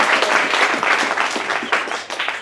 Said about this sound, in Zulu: ngicela nje naye nimuphe ihlombe